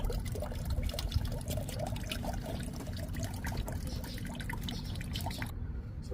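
Coolant water draining from a Honda CBR 1000RR motorcycle during a coolant flush, a steady close trickle and pour of liquid with small drips, continuous and alone.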